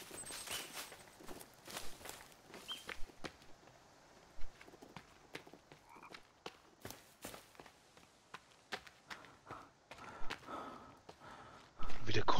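A character panting heavily in the survival game The Forest, repeated breathy gasps in an uneven rhythm mixed with footsteps and rustling, fairly close and moderately loud.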